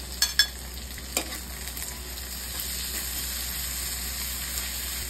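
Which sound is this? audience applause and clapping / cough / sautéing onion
sautéing onion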